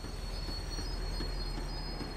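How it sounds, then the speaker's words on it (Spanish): Tram braking in the video game Max Payne 3, with a continuous, sharp squeal of wheels on rails over a low rumble, heard alone and steady. "El tranvía estaba frenando"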